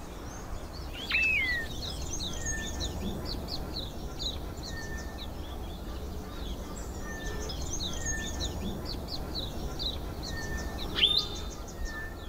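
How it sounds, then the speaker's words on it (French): Birds singing in Kirstenbosch botanical garden in Cape Town, busy chirps and twittering calls in the distance, with a couple of clearer whistled notes standing out over soft background ambience. "le chant des oiseaux."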